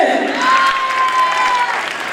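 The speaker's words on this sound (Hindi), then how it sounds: "पुरजोर तालियों में रुखसत कीजिए मिस अनुषा" An audience at Al Rehan Model Academy applauds to send off Miss Anusha, a steady, fairly loud wash of clapping lasting about two seconds, with a held tone running through the middle.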